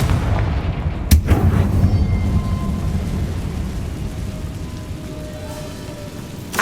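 A Confringo fire spell explodes in Hogwarts Legacy, one sharp booming blast that decays into a rumbling wash over low ambient noise.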